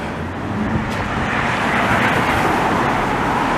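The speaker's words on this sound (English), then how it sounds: "'71, '72 Chevelle." A 1971 or 1972 Chevrolet Chevelle passes on a city street, a loud broadband engine and tire rush swelling and holding close over background traffic, with no talk.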